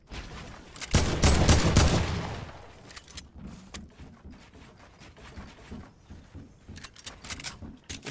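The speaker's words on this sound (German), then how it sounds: "Ja, ich werde beschossen." Gunfire aimed at the player in Fortnite during a Halloween round: a loud, dense burst of rapid shots in the first seconds, then scattered quieter shots and clatter continuing under game noise.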